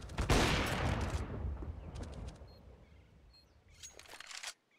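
AWP sniper fire and blind shots through smoke on the Inferno map in a Counter-Strike match, a sharp crack early that decays into a tail, followed by a few quieter shots and clicks.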